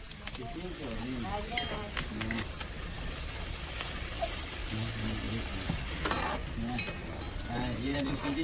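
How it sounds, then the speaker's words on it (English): Giant weevil grubs boil in a pot to release their oil, with a soft bubbling, sizzling stir running throughout while a voice talks over it. "Some are boiled up to extract their oil."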